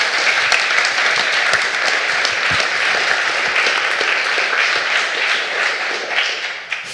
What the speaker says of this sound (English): huge round of applause for Alfonso for creating Fable, please.